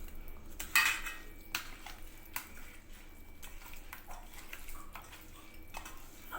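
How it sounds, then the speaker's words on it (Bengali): Chicken pieces being mixed by hand in a bowl with mustard oil, salt and turmeric, giving soft wet squelches and a few clinks against the dish, close and fairly quiet with no talking. "সরিষার তেল, নুন, হলুদ দিয়ে দিয়েছি, এবার মেখে নিচ্ছি।"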